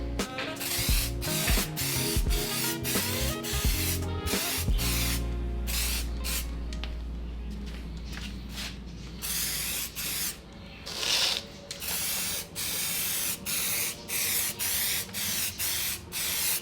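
Gold spray paint going onto an engine front cover from an aerosol can, a loud continuous hiss that runs throughout, with a rattling mechanical clicking in the first few seconds and brief breaks between bursts later on.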